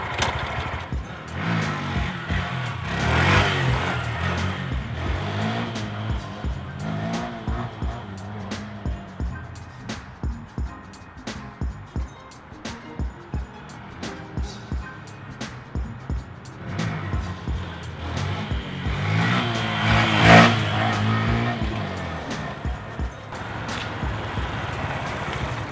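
A Honda Grom motorcycle engine revs repeatedly in surges during wheelie demonstrations outdoors, loud and close, with throttle blips rising and falling across the whole stretch and a sharp peak near the end.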